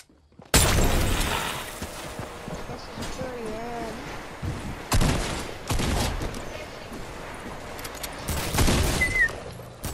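Shotgun and flintlock blasts ring out in a video game battle, several sharp, loud reports spaced across the stretch amid busy background noise, with a voice talking at moments.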